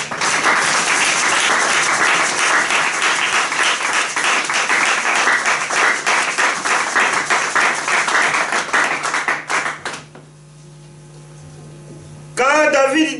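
A church congregation applauding, with dense, loud clapping for about ten seconds that cuts off into a low mains hum, then a voice briefly starts speaking.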